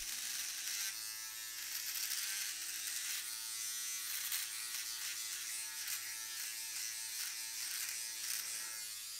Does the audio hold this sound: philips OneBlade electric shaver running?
yes